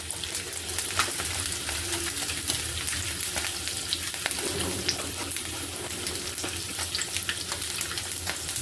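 Curry leaves crackle in hot oil with mustard seeds and asafoetida for a coconut chutney tempering, a lively continuous sizzle with frequent sharp pops, heard close and without speech.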